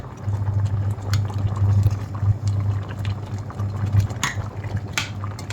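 Thai curry with dried bamboo shoots boiling in a pot, a steady low bubbling simmer with occasional sharper pops and gurgles, continuous and fairly close.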